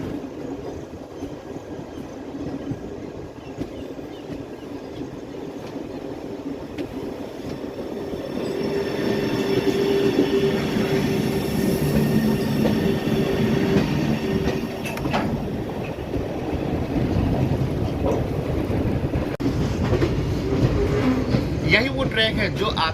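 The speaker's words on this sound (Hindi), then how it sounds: "इस समय जिस ट्रेन में हम लोग चल रहे हैं यानी कि लखनऊ भोपाल गरीब रथ" A Lucknow–Bhopal Garib Rath train with ICF coaches runs along the tracks with a steady rumble and rattle, heard from inside the coach. Faint wheel squeal and clicking rise midway, and people talk over it.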